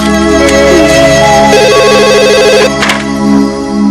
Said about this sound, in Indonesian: Itu mungkin telepon dari Mas Handi.